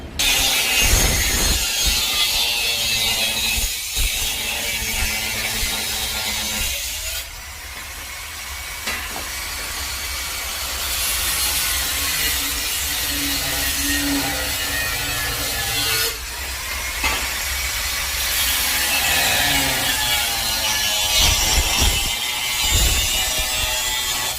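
Square steel pipe is cut during fabrication work. A loud, continuous, close abrasive hiss runs throughout, dipping briefly a few times as the cut changes, with no talk.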